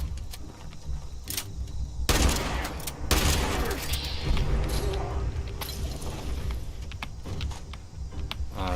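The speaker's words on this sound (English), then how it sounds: "Reloading now." Weapon reloading in Fallout 76 with mechanical clicks and clanks, mixed with bursts of gunfire that cut in loudly and then trail off.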